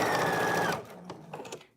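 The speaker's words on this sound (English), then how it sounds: "Make sure you're not sewing beyond that because we have a 1/2 inch seam on here." A sewing machine stitches the sleeve lining seam of a shift dress in a short steady whir, then stops, leaving faint handling clicks and rustle.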